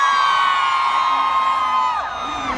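A large concert crowd at Dubai's Global Village main stage whoops and cheers loudly for the singer, a sustained roar of voices that tapers slightly at the end.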